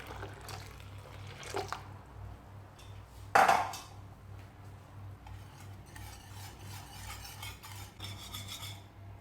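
Palm jaggery water poured into flour in a kadai on the stove for Chettinad kummayam, giving a short, close splash with soft liquid sounds and stirring rasps over a steady low hum.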